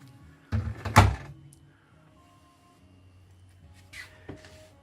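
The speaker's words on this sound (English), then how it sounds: "the cupboard drawer there opens up for accessibility there" A kitchen cupboard drawer aboard a Mainship 400 boat slides open with a close thump and brief rattle, followed by quieter handling sounds and a second soft knock a few seconds later.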